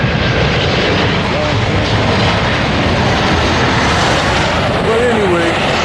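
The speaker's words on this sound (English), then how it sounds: "Whoa, look at this plane. I gotta get this plane coming in." A large airplane comes in to land near the Proud Bird restaurant, its engines a loud, steady roar that fills the whole stretch and masks everything else.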